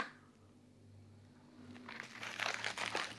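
Phone packaging being torn and crinkled open by hand, crackly plastic and paper noise building in the second half and growing louder and busier toward the end.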